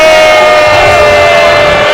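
Basketball arena crowd at the Coliseum during an Austin Peay at West Virginia college game, reacting to a referee's call with a loud, sustained roar and jeering that fills the whole moment.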